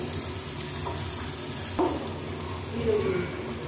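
Spice masala with chilli powder, coriander powder and salt frying in a pan for a bhetki fish bone curry, giving a steady close sizzle with a couple of brief scraping stirs and no talk.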